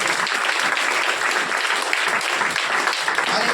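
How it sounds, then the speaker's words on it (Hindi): A church congregation claps together in loud, dense, continuous applause that fills the room evenly from start to finish, with no voices standing out. "ताली बजाएंगे परमेश्वर की।"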